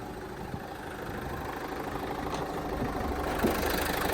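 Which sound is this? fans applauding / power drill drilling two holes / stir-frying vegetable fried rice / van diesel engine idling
van diesel engine idling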